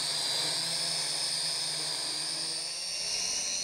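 A Fei Lun FX176C1 cheap brushed GPS quadcopter drone hovers after takeoff, its small motors giving a continuous high-pitched whine and buzz at a steady, moderate level throughout.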